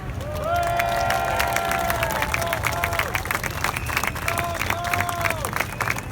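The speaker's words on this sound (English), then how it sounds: "Let's give him a big hand." A big outdoor crowd at a May Day rally in Trafalgar Square, London, claps and cheers, with sustained applause, scattered whoops and whistles, and a voice or two shouting over the dense clapping.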